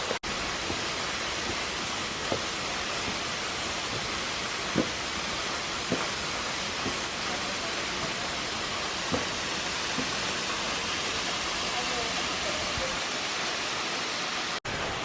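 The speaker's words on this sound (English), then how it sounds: "Look, there's the waterfall." A big waterfall in Taiwan roars as a constant, loud wash of white noise, broken now and then by faint clicks and taps, and it ends abruptly.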